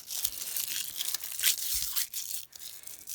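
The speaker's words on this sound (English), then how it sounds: "And you just peel the cellophane off the top" Cellophane wrapping being peeled off the top of candy canes, a close crinkling and tearing with quick irregular bursts of rustle over a few seconds.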